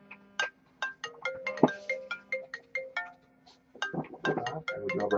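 A phone's ringtone plays a quick chiming melody of bright, repeated notes in an even rhythm, clear and close, with no one talking.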